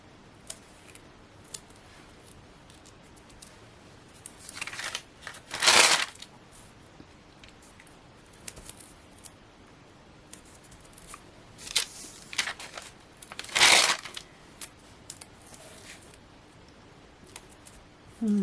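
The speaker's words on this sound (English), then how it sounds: "And just going all the way around with my scissors." Scissors cutting all the way around a roughly 3mm thick Hunkydory die-cut craft piece, giving two louder bursts of snipping and crunching, near and clear, separated by quieter handling with no talk.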